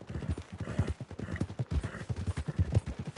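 Horse hooves clip-clop steadily along a path in a Western open-world video game, close and fairly loud, with an occasional faint snort or whinny and no talk.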